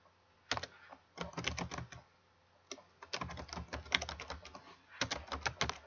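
Fast bursts of typing on a computer keyboard, closely miked, with crisp individual key clicks in clusters broken by short pauses, fairly quiet and with no voices.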